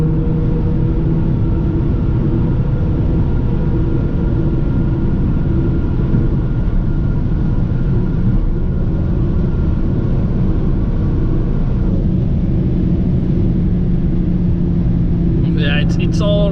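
A BMW 1 Series 114i Stage 1 tuned to 225 hp on 16-inch alloys with 195-wide tires runs at top speed. Loud, constant engine drone and road roar fill the cabin throughout.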